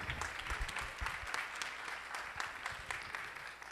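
An audience applauds after a Batuque drumming and dance performance at a formal ceremony, a steady, dense wash of many hands clapping at moderate distance, with no speech over it.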